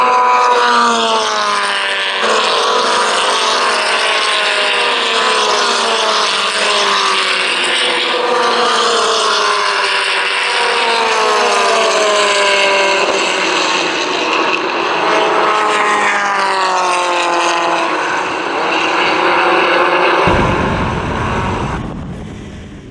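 A Formula Ford race car engine at Willow Springs Raceway, loud and close, revving and shifting up repeatedly in rising and falling sweeps for about twenty seconds before cutting off abruptly.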